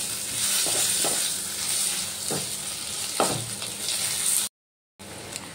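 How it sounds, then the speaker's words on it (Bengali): Potatoes fry in hot oil in a pan, giving a loud, steady sizzle close by, broken by a few soft stirring scrapes and a brief drop to silence near the end. "এবার আমি আলুগুলো লাল লাল করে ভেজে তুলে নেব।"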